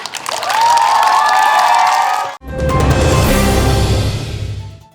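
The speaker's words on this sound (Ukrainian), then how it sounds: "Нам оплески треба." A crowd at an outdoor festival opening in Uzhhorod claps and cheers loudly, with a brief cut midway before the applause and shouting resume and gradually fade.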